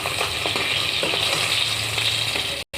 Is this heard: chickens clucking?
no